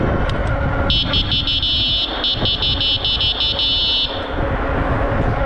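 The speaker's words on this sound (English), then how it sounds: "we'll test out the horn right here." A shrill electronic horn on an AIPAS F3 Max folding e-bike blares continuously for about three seconds over steady road and wind rumble while riding, loud and close.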